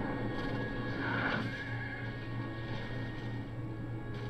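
A single horse neigh rings out amid battlefield noise in Empire Total War, a brief whinny early on over a steady low background hum.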